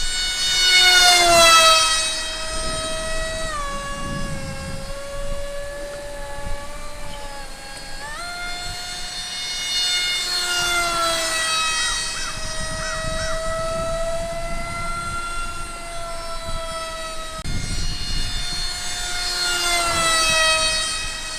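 An electric RC F-22 Raptor jet on a 3-cell pack with an NTM 2200 kV motor and 6.4 prop whines in flight, its pitch rising and falling repeatedly as it passes near and far, with no talk.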